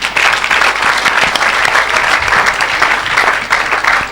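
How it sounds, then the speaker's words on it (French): A church congregation applauding loudly, dense continuous clapping that fills the whole moment without pause. "Acclamons les Seigneurs."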